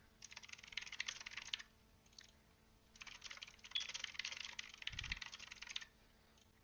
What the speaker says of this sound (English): let's go ahead and type out the words that we put in